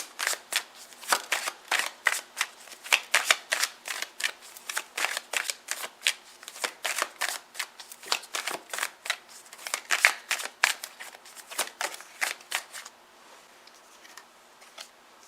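A deck of tarot cards is shuffled in quick, riffling bursts of crisp flicking, close and fairly loud, continuing steadily for most of the stretch before fading to quiet handling.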